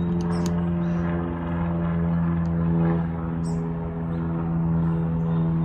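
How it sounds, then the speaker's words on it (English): A small propeller training plane from a local airport flies over a house, a loud, steady droning engine hum with a slight swell in the middle, with faint clicks and no talk. "The plane that they use at the airport that my husband flies from, they use for all the pilot's lessons, keeps on flying over the house."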